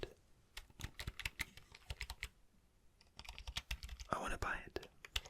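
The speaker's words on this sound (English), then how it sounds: "there was a new mechanical keyboard" Rapid, uneven clacking of keys on a new mechanical keyboard, close and crisp, in bursts with a short pause midway and soft whispering alongside.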